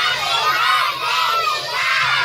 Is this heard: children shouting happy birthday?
yes